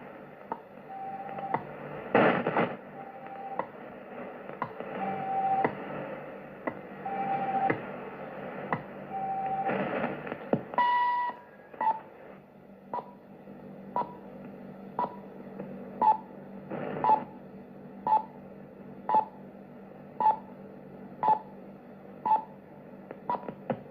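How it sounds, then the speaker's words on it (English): Shortwave time signal from VNG Lyndhurst, Victoria, Australia, broadcasting on 4.5, 7.5 or 12 MHz: a steady series of short, evenly spaced pips about once per second, plus a few longer tones, heard through a hissing, faintly crackling radio carrier. "frequency and time signal service of the Australian Telecommunications Commission"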